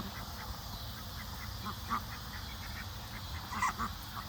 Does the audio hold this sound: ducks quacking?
yes